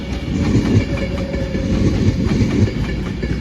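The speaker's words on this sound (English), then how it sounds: "here comes an Avanti West Coast service to London Euston" An Avanti West Coast passenger service bound for London Euston from Liverpool Lime Street passes close by, a loud sustained rumble with rhythmic clickety-clack of wheels over rail joints throughout.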